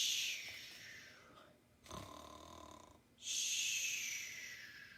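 A storyteller's voice imitates a bear snoring, giving two long, breathy snore-like pulls with a short grunting snort between them. The sound is soft and close, with no other sound around it.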